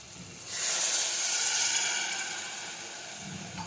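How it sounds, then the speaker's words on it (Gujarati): Water poured onto hot brinjal, potato, tomato, drumstick and cluster bean curry in a pressure cooker sets off a sudden loud steam hiss that swells, then slowly fades over a few seconds. "હવે આપણે પાણી ઉમેરીશું."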